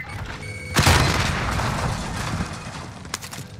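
Grenade explosion in Call of Duty: Modern Warfare, a sudden loud boom that rumbles and decays over a couple of seconds, followed by a sharper crack near the end.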